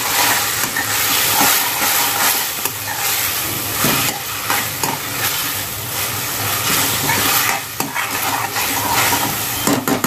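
A paste of ginger, garlic, coriander and green chili fries in hot oil for egg masala curry, giving a loud, dense, continuous hiss and crackle with occasional stirring scrapes.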